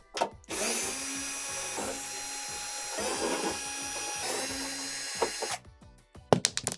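A power driver whines in long bursts as it backs 1/4-inch screws out of a Whirlpool blower housing, with short pauses and clicks between runs before the tool stops near the end.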